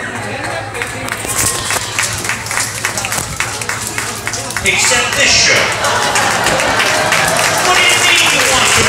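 An audience at a bear show claps and murmurs under a man's speech, and the applause swells louder and fuller about halfway through.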